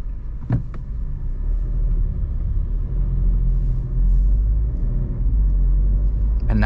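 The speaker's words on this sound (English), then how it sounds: "I'm now putting it in drive." Volkswagen Polo 1.0 TSI with a DSG gearbox, driven in drive mode, gives a steady low engine and road rumble heard from inside the cabin. It stays continuous and fairly loud throughout, with a brief click near the start and no talk.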